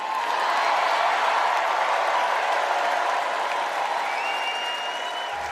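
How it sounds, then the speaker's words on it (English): A large arena crowd at the United Center breaks into loud, sustained applause, steady dense clapping that holds for several seconds at full volume with no voices rising above it. "Huge applause break moment in the United Center."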